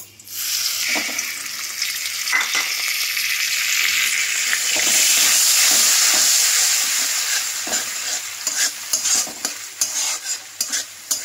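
Ground spice paste added to black cumin in hot oil in a pan: a loud, close hissing sizzle swelling in the middle, then settling into scraping, stirring clatter toward the end, with no talking.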